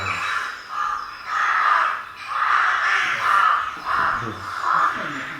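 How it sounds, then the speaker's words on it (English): A rook calls in farmland with a series of harsh, hoarse caws at a moderate distance, several drawn-out calls in a loose rhythm over faint background noise. "the rook is just that really agricultural whir"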